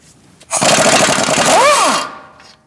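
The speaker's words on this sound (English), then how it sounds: "we're going to take our nut off with an 18mm socket." A power impact tool, likely an impact wrench with an 18mm socket, spins loose a tie rod nut on a 2016–2019 Chevrolet Cruze in one loud, close burst of hammering rattle lasting about one and a half seconds, with a whine that rises and falls near the end.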